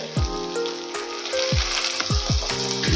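Turmeric and ground spices sauté with cooked tomato in a pan for Maharashtrian potato kurma, a dense close sizzle punctuated by repeated spatula knocks against the pan.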